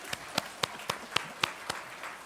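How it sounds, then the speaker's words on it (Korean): A church congregation at a New Year's Eve service claps briefly for newcomers, a few sparse, fairly faint handclaps in an irregular rhythm. "우리 김동희 집사님 친구가 오셨는데 우리 새로운 분들에 대해서 박수 한번 쳐볼까요?"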